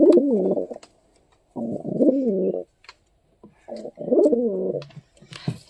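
Pigeons in a home pigeon loft give three close, loud bouts of throaty rolling coos, each about a second long with pauses between, followed by a few faint clicks and rustles.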